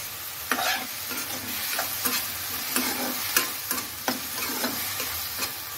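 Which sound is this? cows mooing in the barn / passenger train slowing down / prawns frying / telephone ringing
prawns frying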